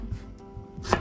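A knife chopping a carrot on a board, a few soft taps followed by one crisp, louder cut near the end, close up and alone.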